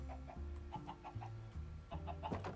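Chickens cluck repeatedly in the video game Minecraft, with short evenly spaced clucks over a steady low game hum and tone, fairly quiet and without speech.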